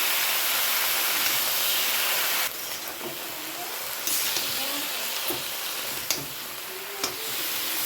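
Vegetables sizzling in a hot pan for a vegetarian dish, a steady loud hiss of frying that drops a little partway through, with scattered clinks and small pops over the sizzle.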